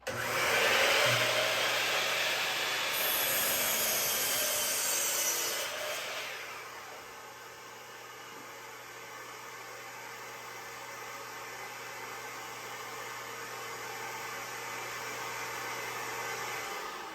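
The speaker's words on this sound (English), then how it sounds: "I start my miter saw, my shop vac will automatically turn on" A woodworking miter saw and an automatically switched shop vac run together: a loud, harsh whine for about five seconds, then the saw winds down, leaving the vacuum's steady, quieter roar with a low hum.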